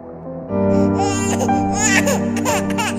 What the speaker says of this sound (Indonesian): Suara tangisan bayi terdengar dari arah barat.